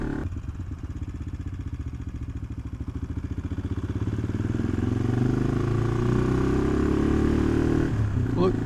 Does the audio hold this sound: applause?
no